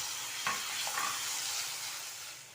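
Finely chopped tomatoes drop into a pan of sautéing green chilli and ginger, and a steady close sizzle follows with a brief stir.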